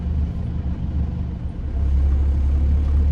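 A VW BEW TDI diesel engine idles at about 700 rpm on a stock AW4 torque converter, a steady low, throbbing rumble with a faint knock that thickens and grows a little louder partway through, with no one speaking.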